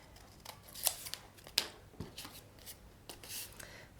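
Scissors trim paper for a shoe box scene in a few quiet, close snips with faint rustling between them.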